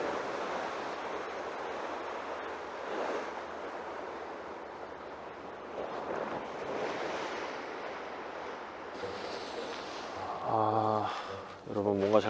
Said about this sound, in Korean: 파도도 많이 치고 파도 소리도 좋고